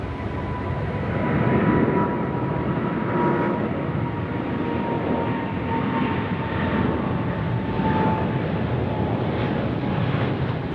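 A Boeing 777 freighter takes off at Sydney Airport, its engines a loud, steady roar that fills the whole stretch with broadband rumble and a faint tonal whine.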